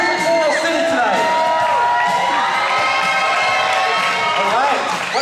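A crowd at a roller derby bout cheers and shouts loudly and continuously, with whoops and high voices layered into a sustained wall of noise that rises again near the end.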